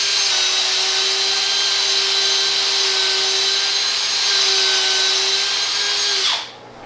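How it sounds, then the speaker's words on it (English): A power drill boring out a fishing rod handle grip runs steadily and loudly for about six seconds with a constant whining pitch, then abruptly winds down and stops near the end. "I'm using the drill because it's much quicker"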